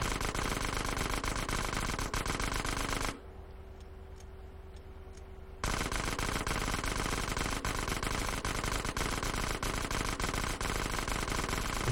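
Rapid automatic gunfire in a video game rattles loudly and continuously, breaks off for a couple of seconds with faint ticking, then resumes at the same rapid rate.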